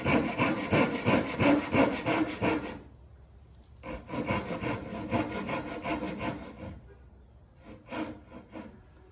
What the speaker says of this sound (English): that's why I'm doing this initial test cut on a test piece of wood, just to try to get that just right